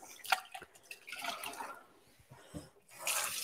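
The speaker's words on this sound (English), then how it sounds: "So I'm just going to rinse out this bowl that I've just used." A mixing bowl holding leftover biscuit crumbs from a no-bake chocolate cheesecake is rinsed under a kitchen tap, with uneven bursts of splashing and dripping water, fairly quiet and close, and no talking.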